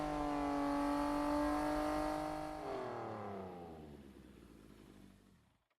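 Suzuka's motorcycle in Fate/Grand Order, a loud engine revving up then winding down in falling pitch sweeps, fading gradually to silence over several seconds, alone without talk.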